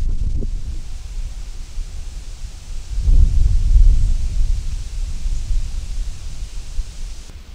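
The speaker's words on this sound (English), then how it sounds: "Wind is just whipping where I'm sitting right here across a cornfield" Strong wind whips across a cornfield in October, producing a loud, low rumbling buffet with gusts that swell and ease without letup.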